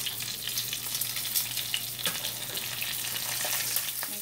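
Breaded chicken nuggets frying in oil in a pan on medium heat, a steady close hiss and crackle with small pops, continuous throughout and without talking.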